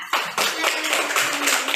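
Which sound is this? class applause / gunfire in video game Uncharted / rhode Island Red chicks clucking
class applause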